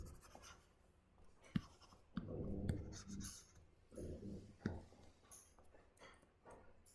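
A board is erased during an electronics lecture, with rough, uneven scrubbing strokes and a few sharp knocks, fairly quiet and close, with no talk over it.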